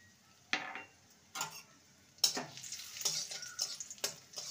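Cashews and raisins cut into small pieces and dropped into hot oil in a pan, giving quiet sizzling with several sharp clinks and scrapes of a utensil against the pan in an otherwise hushed kitchen.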